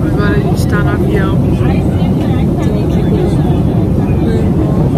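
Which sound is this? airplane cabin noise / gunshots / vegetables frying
airplane cabin noise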